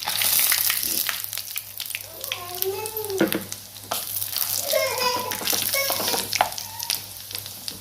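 Whole bay leaf, cinnamon, mace and dried red chillies sizzle and crackle in hot oil for a chicken curry, a loud continuous frying hiss with stirring clatter and occasional speech in the background.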